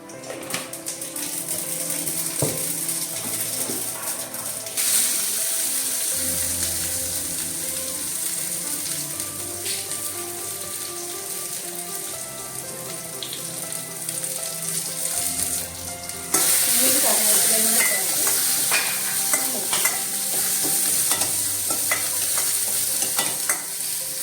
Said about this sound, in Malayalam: ചൂടായി കടുക് ചേർത്തെടുക്കാം.